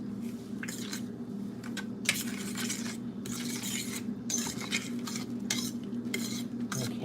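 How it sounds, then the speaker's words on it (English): A fork stirs seasoned peaches in a bowl, giving soft, steady wet scraping and clinking that stays close and continuous over a low background hum. "get this fork and I'm going to mix that up. Just give it a good stir."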